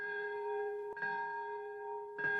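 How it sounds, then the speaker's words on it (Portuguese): A bell tolls at the Nagasaki atomic bomb memorial ceremony, a sustained ringing tone that fades slowly, struck again near the end, heard alone and at a moderate distance. "O som do sino marcou o minuto exato em que a bomba caiu sobre Nagasaki."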